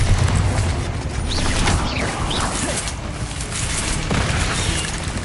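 A Bombarda spell in Hogwarts Legacy goes off as a loud, sustained explosive roar with rumbling booms and whooshing debris, filling the whole stretch without pause.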